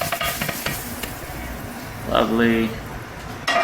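Burger meat and its grease being stirred into cooked rice for a bacon burger rice dish, a soft scraping and sizzling bed of sound under a brief spoken word, with a short clatter near the end.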